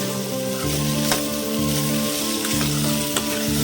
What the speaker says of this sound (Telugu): ముక్కలు ఆలుగడ్డలు ఉడకబెట్టి ఫ్రై చేస్తానండి